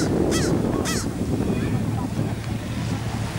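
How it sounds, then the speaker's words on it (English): Two sharp squawking bird calls ring out in quick succession over a constant rumble of wind and distant water at Fisherman's Wharf and Pier 39, San Francisco, with faint voices in the background. "A lot of noisy birds down here."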